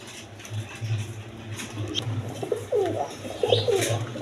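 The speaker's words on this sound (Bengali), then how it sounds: "এখানে এক পেয়ার ইন্ডিয়ান কবুতর আছে, ইন্ডিয়ান বোম্বাই, একদম কোয়ালিটি সম্পন্ন কবুতর" Indian Bombay breed pigeons coo in soft, low, repeated throaty calls, close by, with faint rustling and scratching in their loft.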